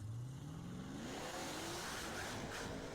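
At a drag strip, a Camaro and a Mopar launch and accelerate hard, engine pitch climbing steadily in one long rising pull, heard from some distance and fairly faint.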